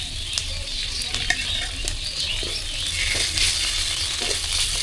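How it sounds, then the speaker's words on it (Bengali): Cumin paste goes into browned chopped onions frying in a pan, giving a steady close sizzle broken by scraping stirs and soft clicks of the spoon throughout. "পেঁয়াজ কুচিগুলো বাদামি কালারের হয়ে যাওয়ার পর আমি এখানে দিয়ে দিচ্ছি জিরে বাটা"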